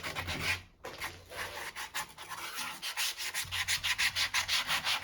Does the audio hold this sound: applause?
no